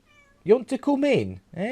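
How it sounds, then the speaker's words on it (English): A house cat meows at a door, loud and close, with a few short cries and one drawn-out meow, while someone speaks to it. "Sorry, that's my cat."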